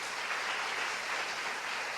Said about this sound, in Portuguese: Vamos dar uma salva de palmas do Senhor Jesus?